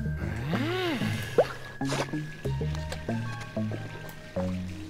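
Game water from Disney's puzzle game Where's My Water? 2 gurgles and squishes, with bubbly sliding tones and short drips over several seconds, close and fairly loud.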